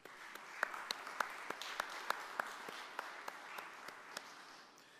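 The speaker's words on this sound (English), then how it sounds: "Give yourselves a round of applause." Scattered, fairly faint applause from a graduation audience of new peace officers in St. Croix, heard as a thin patter with distinct individual claps that fades toward the end.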